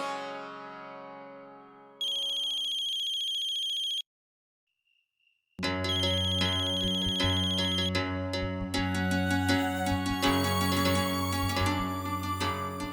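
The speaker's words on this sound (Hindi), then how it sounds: "एक बार तो मेरा फोन उठा लीजिए प्लीज।" A mobile phone ringtone plays clearly: a few electronic tones, a brief pause, then a bright looping melody that continues to the end.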